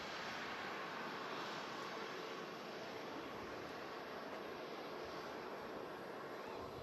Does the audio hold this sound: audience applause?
no